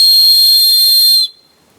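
A cheap plastic whistle from a one-dollar survival kit is blown in one loud, shrill, steady blast lasting over a second, then cuts off sharply into near silence.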